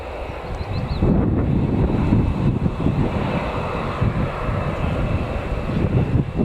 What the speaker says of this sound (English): But we've got a Ryanair first coming in.